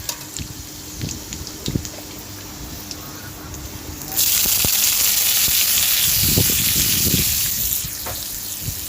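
Chopped onion hits hot oil with garlic in a pan, a loud steady sizzle that jumps up suddenly and holds, with faint clinks of a spatula before it.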